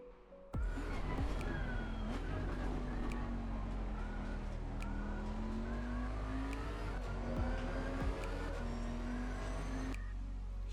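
Race car engine in Assetto Corsa Competizione at Brands Hatch, a steady loud drone that rises and dips slightly in pitch as the throttle is feathered and then held open, with faint tire and curb noise underneath.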